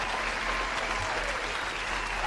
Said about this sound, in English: intense applause